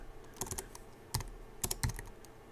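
Typing on a computer keyboard: several short, crisp key clicks in small irregular bursts, close and fairly quiet, with no voices.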